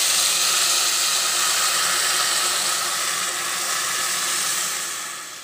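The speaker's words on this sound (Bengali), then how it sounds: "এবার আমি এর ভেতরে ডালটাকে মিশিয়ে দেব।" Dal poured into a hot tempering of spices gives off a bright steamy sizzle. The hiss stays steady and loud for several seconds, then eases toward the end. Nobody speaks.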